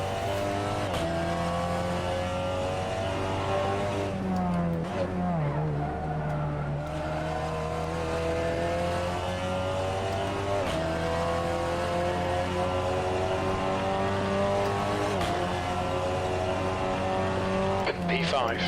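A race car engine in a racing video game howls continuously, revs rising and falling through gear changes, with tires squealing through corners. A player talks over the loud, steady engine sound.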